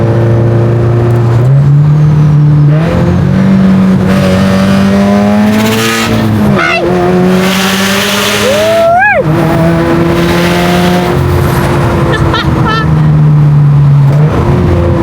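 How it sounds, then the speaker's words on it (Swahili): A Subaru WRX STI (VAB) fitted with a big rotated turbo revs repeatedly, its engine pitch climbing and falling, with a sharp rising sweep midway. It is loud and close, with steady road noise underneath. "Sasa tuwafungulie dirisha tusikie vile gari inalalisha."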